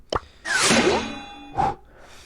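Loot box opening in the Brawl Stars mobile game: a sharp pop, then a bright whooshing burst with chiming tones, and a second pop with a ringing ding, loud and close with no speech.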